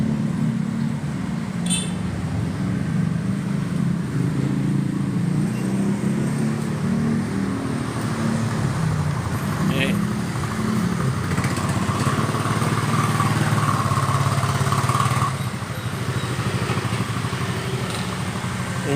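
The engine of a 2018 Toyota Avanza Type E with manual transmission runs steadily at idle, a continuous close, loud drone with a low hum and slight rattle that holds for the whole stretch, with no talk over it.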